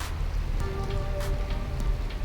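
A steady rain effect from the video game Arcade Spirits hisses evenly throughout, with faint tonal notes drifting over the wash of falling drops.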